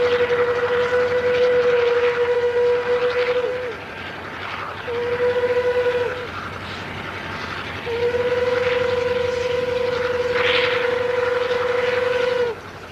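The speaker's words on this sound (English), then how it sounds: "The rotary is going on down to the other end of the site." A railway rotary snow plow working along the line in deep snow, with a heavy rumbling engine drone under repeated long horn blasts, three sustained toots separated by short gaps, loud and close.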